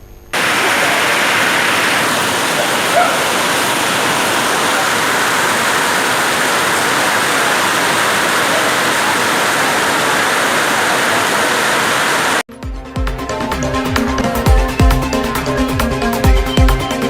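Heavy rain pours down on a railway station platform, a loud, dense, continuous roar of falling water that cuts off abruptly near the end into a different busier sound.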